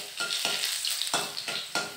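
Crushed garlic dropped into hot oil with black cumin seeds, crackling and sizzling with repeated stirring strokes at a steady rhythm, close and clear with no voices.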